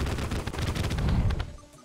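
Weapon explosions from the video game Terraria burst in a dense, loud, continuous rapid-fire barrage that thins out near the end, with no voices.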